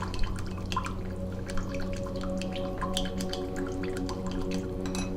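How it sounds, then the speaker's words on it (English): A liquid spray mixture is poured through a funnel into a bottle, heard as soft irregular drips and trickles over a steady low background hum. "So we'll go through the funnel and get into our bottle easy here."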